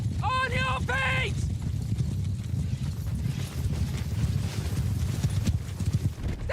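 A cavalry charge in Mount & Blade Bannerlord with a Warhammer Old Realms Bretonnia setting: a horse whinnies loudly up front, then hooves clip-clop in a fast, continuous gallop over a low rumble of battle and shouting voices.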